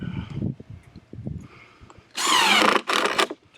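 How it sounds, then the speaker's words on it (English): Power drill driving a screw into a wooden bed, a few faint whirs and knocks at first, then two loud, close bursts of high-pitched motor whine as the screw is tightened down. "Tighten that screw down."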